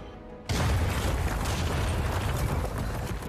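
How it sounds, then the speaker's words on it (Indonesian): A sudden loud blast erupts after a brief quiet moment, then a heavy rumbling roar sustains and slowly settles, like a big explosion close by. "menyaksikan ledakan dahsyat dari"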